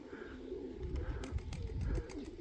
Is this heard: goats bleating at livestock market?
no